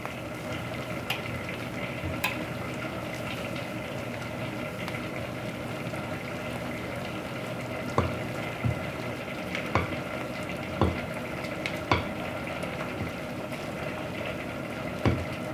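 Soft, steady swishing of egg whites being folded into gluten-free ebelskiver batter in a bowl, continuous and close, with occasional light taps of the utensil against the bowl rim and no speech.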